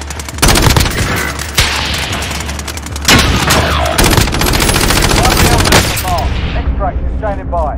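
Call of Duty multiplayer gunfire rattles in dense, rapid automatic bursts mixed with heavy booms, loud and continuous across the clip before thinning out near the end.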